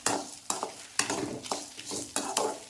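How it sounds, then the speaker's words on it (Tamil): Tamarind pieces are sautéed in a pan for pirandai chutney. A utensil scrapes and stirs in sharp, regular strokes about every half second over a soft, steady sizzle, close and fairly quiet. "அதையும் போட்டு நம்ம வதக்கிக்கலாம்"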